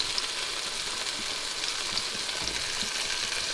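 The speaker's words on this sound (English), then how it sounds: "Saute them as well." Thick zucchini chunks sauté in a pan with a steady, even sizzling hiss throughout, moderately loud and close, with no talking.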